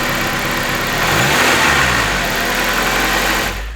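A turbocharged Acura RSX engine pulls hard while driving, a loud, sustained rising drone with turbo whistle and gear-driven pitch shifts, close and continuous until easing off at the end.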